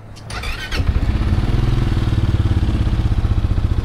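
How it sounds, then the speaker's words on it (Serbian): A Zontes 368G motorcycle engine starts remotely, a short cranking whir catching into a steady, close, rhythmic idle putter that continues to the end. "ja mogu sa svojim mobilnim telefonom da i upalim motor ako treba"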